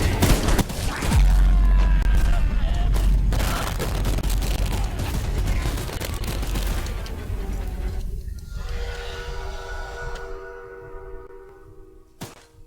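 A mounted gun fires a heavy, sustained barrage at a killer train in a video game, rumbling and booming loudly before trailing off into lower mechanical tones.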